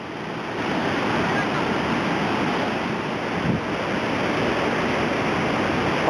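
Mountain waterfall on a forest path near La Pola de Gordón, León, swollen with water: a steady, broad roar of rushing water that fills the whole stretch without letting up, with no voices over it.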